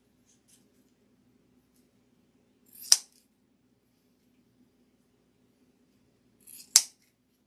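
Two sharp scissor snips cutting wired ribbon for a patriotic Army wreath, one near the three-second mark and another near the seventh, each crisp and close, with near silence and a faint low hum between them.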